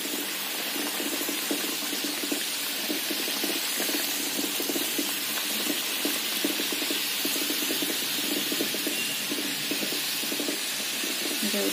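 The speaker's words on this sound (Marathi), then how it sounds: "आता आपण तेलामध्ये तळून घेणार आहोत" Sweet modaks fry in hot oil in a kadhai over medium heat, giving a steady, even sizzle and hiss that runs unbroken throughout, with no talking.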